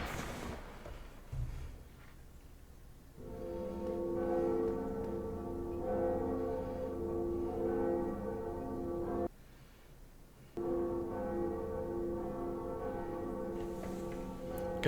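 A large church bell rings out in Dark Souls with a sustained, resonant ringing that swells, cuts off briefly, then rings on again.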